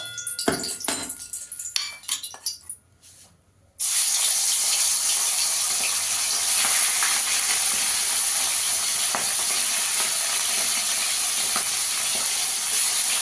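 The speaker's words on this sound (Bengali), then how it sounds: "দেখুন আমি একটা কড়াই বসিয়ে দিয়েছি, তেল দিয়ে দিয়েছি, এবার মাছটা ভেজে নেবো।" Chapila fish sizzles in hot oil in a wok, a loud steady hiss that bursts in after some clattering and a brief quiet, continuing unbroken.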